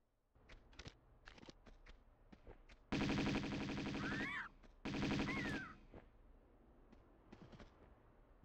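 Automatic gunfire in the video game Tomb Raider II comes in two sustained loud bursts separated by a short gap, with sparse softer clicks and thuds before and after, and no speech.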